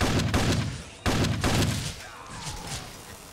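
Heavy gunfire in Fallout 3, a few loud booming shots in quick bursts up close, then fading into quieter thuds.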